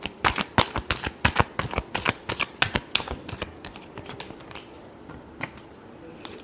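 Tarot cards being shuffled by hand, a rapid series of crisp riffling flicks and slaps in quick bursts, close and clear, tapering off into quiet near the end.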